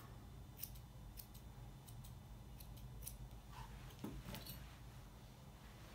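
Small, crisp scissor snips trim a Havanese dog's ear fur at close range, a series of quiet, irregular clicks and cuts with a brief rustle of fur.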